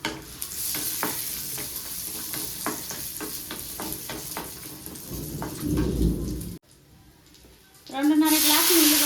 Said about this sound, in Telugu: నెయ్యి వేడైంది. కాజు, కిస్మిస్ వేసాను.